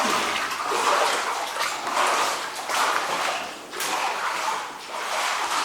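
Water pours steadily out of a drill hole in the rock wall of a mine, giving a continuous rushing splash with slight surges, close and fairly loud, with no one talking.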